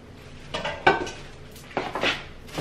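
A metal lid from a Thyme & Table cookware set is set down on a pot, giving a couple of close, light clinks with a brief pause between them and no talking.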